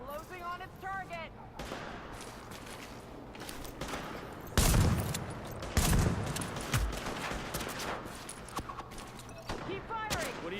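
Gunfire in a Tom Clancy's The Division firefight, with bursts of shots and sharp impacts spread throughout, loudest in a couple of heavy blasts midway, while voices talk over the action.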